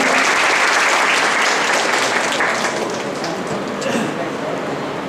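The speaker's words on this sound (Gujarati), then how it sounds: "આપણે માનનીય શ્રી અશ્વિનભાઈને તાળીઓના ગડગડાટથી વધાવીએ" An audience at a prize distribution ceremony at Amroli College bursts into dense, sustained applause, a loud continuous wash of clapping that fades slightly toward the end.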